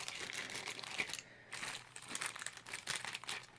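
Crinkly plastic packet holding Hobbywing XR8 Plus ESC accessories being handled up close, soft continuous crumpling and rustling with a brief quiet gap partway through.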